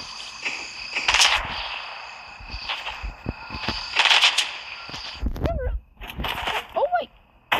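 Gunfire in a Fortnite match, sharp shot bursts and cracks around ongoing game effects, with a player talking over them.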